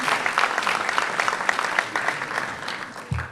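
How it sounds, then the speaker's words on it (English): Audience clapping at a high school senior awards night in a large hall, a steady wash of applause from a crowd that fades slightly toward the end. "You could hold your applause for Clayton Clark, Joseph Cohen, Ryan Coy, S"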